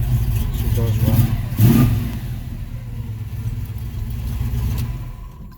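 A 1969 Camaro with a blown engine idling nearby, a steady mid-range engine rumble with a brief rise partway through, running under a voice.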